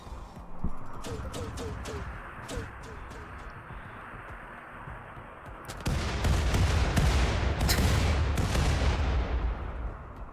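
RimWorld video game gunfire: scattered distant shots crackle early on, then a dense, loud barrage of artillery-like blasts and rapid fire takes over for the second half, with some talk mixed in.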